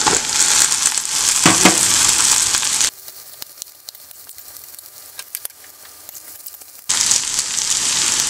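Sliced onion and raw plantain sautéing in a pan for a chana dal curry, a bright steady sizzle that cuts out for a few seconds of quiet clinks and clicks, then resumes just as loud.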